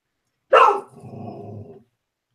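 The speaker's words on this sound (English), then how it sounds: "I muted because the dog started barking." A dog gives a single loud, close bark that trails off into a rough, lower growl lasting about a second, then silence.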